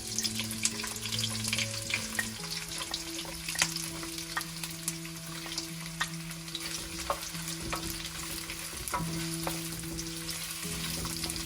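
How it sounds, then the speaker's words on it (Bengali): Onions hitting hot oil in a pan for chicken and vegetable chow mein, a continuous close crackling sizzle with occasional light stirring clicks and a faint steady background hum, no talking. "গরম হয়ে গেছে, এখন পেঁয়াজগুলো দিয়ে দিচ্ছি"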